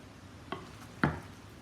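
Spoon working broken-up ricotta in a bowl, two soft scraping knocks about half a second apart, the second louder, with faint kitchen room tone around them.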